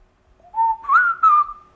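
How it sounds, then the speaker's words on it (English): A person whistles a short rising then wavering tune, clear and close, in about three connected notes lasting just over a second, alone without talk. "I can whistle, I can talk"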